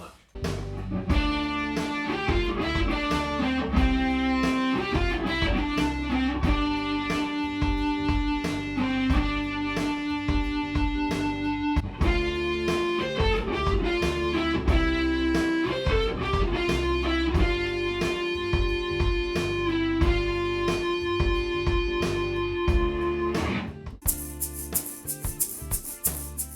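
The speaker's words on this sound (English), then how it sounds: "Let's get some harmonized electric guitars, because those are huge in this song" Dense, sustained layers of harmonized electric guitar lines ring out over a full pop backing track with steady drums and bass, loud and continuous throughout, changing to a brighter, thinner texture near the end.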